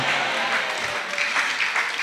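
A church congregation applauds and cheers steadily, a dense wash of clapping with voices raised in excitement throughout.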